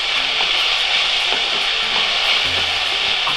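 Tomatoes fry and sizzle in a pan for Udupi-style crab sukka, a steady close hiss throughout with faint stirring taps, no talk.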